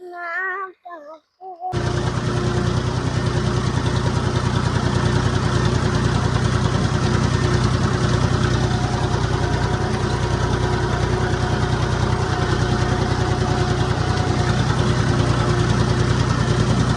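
A tractor engine idles steadily and loudly up close, a low rhythmic chugging throbbing without pause after a brief moment of silence at the start.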